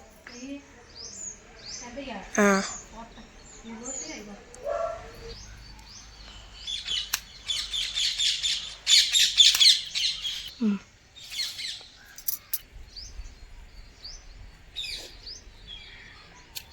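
Parrots squawk and chirp in bursts, loudest in the middle, mixed with intermittent background voices.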